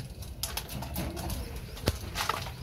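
Racing pigeons in their loft, with soft cooing mixed with light shuffling and a brief wing flutter, all at close range over a steady low background hum.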